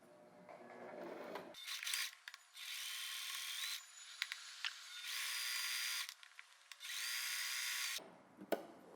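A sewing machine running a zigzag stitch at width 3 stitches elastic onto tank-top fabric for a girl's dress, in three sustained whirring runs separated by short pauses and handling clicks.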